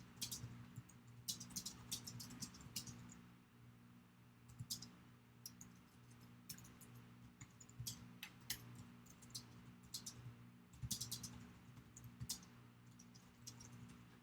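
Computer keyboard typing a message: quiet, irregular clusters of key clicks with brief pauses between bursts, close but faint over a low steady hum, no talking.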